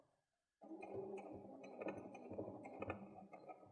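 A sewing machine stitching a seam on a fabric coin purse, a steady close mechanical whirr with rhythmic needle clatter starting after a brief silence and running without pause.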